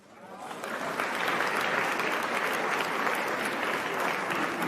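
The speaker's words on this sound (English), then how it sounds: "What you guys are applauding for?" An audience breaks into applause during a presidential speech, the clapping swelling over the first second into a dense, steady roar that holds at full strength.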